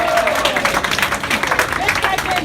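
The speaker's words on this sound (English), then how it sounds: "Give yourselves a round of applause." An audience at a comedy roast of Pac-Man at TooManyGames 2018 claps and cheers loudly in a dense, continuous burst of applause mixed with crowd noise.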